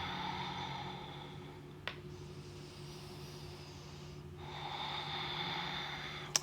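Slow, audible ocean breathing during a yoga session, with long hissing breath sounds separated by a quieter gap and faint background hum.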